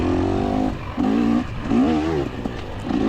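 A six-speed 2024 300 XCW dirt bike engine revs hard in repeated rising pulls, loud and close, with no talk.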